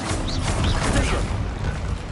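A wand spell being cast in Hogwarts Legacy, heard as a dense burst of magical whooshing and crackling effects with rising swept tones, loud and continuous over a busy game soundscape.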